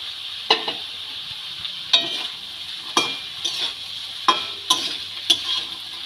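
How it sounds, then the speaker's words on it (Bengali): Vegetables and peas for spring roll filling are stirred in a frying pan, where sharp spatula scrapes and taps recur about every half second over a steady, bright sizzle. "খুব ভালো করে নেড়ে নেব।"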